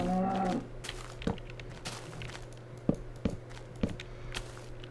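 A cow in the Minecraft video game gives a short low moo at the start, followed by quiet clicks and taps of game activity over a faint steady hum.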